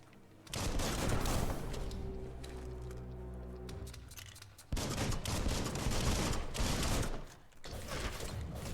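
Enemy gunfire in the video game Biomutant, bursts of rapid loud shots mixed with clattering game effects, running in dense stretches broken by brief lulls.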